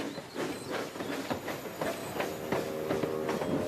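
A steam train engine chugs along the rails in a rhythmic series of puffs and hisses mixed with rolling wheel clatter, steady and fairly close.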